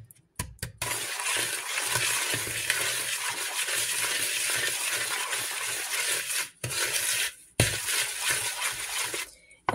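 Doughnut batter of egg and dry ingredients is stirred in a bowl, a close, loud, continuous scraping churn that breaks off briefly a few times before resuming.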